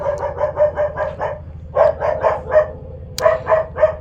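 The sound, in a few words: dog barking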